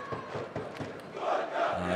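Football supporters of the Belshina team roar and chant in a stadium during a match, a dense, steady crowd swell that builds louder toward the end.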